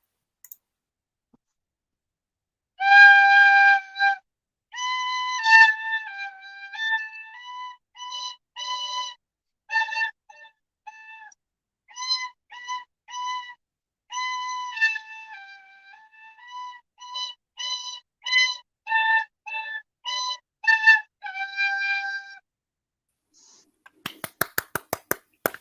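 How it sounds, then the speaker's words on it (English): A lively tune played alone on a penny whistle, clear, bright notes in quick phrases with short pauses, close and fairly quiet, ending in a scatter of sharp clicks. "are you going to give us a tune on the penny whistle just now?"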